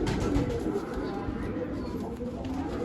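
A white-eyed pigeon coos in soft, low, rolling murmurs close by, over a steady hiss of background noise.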